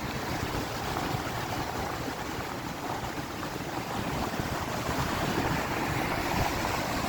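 Sea waves surge and wash in on the coast near the Sikotar Mata temple close to Harshad, a loud continuous roar of churning water with wind buffeting the microphone.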